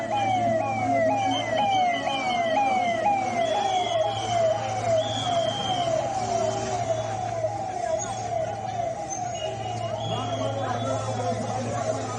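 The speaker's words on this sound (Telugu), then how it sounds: "ఆల్రెడీ అంబులెన్స్ కూడా వచ్చేసి" An ambulance siren wails in rapid, repeating sweeps near a large fire in Vijayawada, loud and continuous over low traffic rumble, with a second siren tone faintly overlapping.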